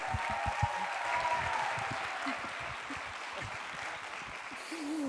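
Audience clapping to welcome the director of a stage show, a steady wash of applause with a few sharp individual claps, a faint whistle and a murmur of voices underneath.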